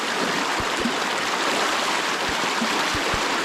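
Water runs steadily after heavy rain near a bean garden, a constant close rushing flow with scattered faint low knocks and no talking.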